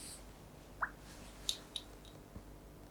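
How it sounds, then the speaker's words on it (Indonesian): Drops of turmeric solution falling into a chemistry sample in an acid-base indicator test, a few small separate drips and plinks, soft and close, with no talk. "Kita tetesi larutan kunyit"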